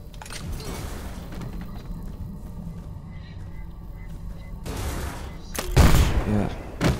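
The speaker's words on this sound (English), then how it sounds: "the grenade launcher is so fucking good" A grenade launcher in STALKER Anomaly fires amid scattered gunshots, followed near the end by a heavy booming explosion that stands out loud and close, with faint rumbling between shots.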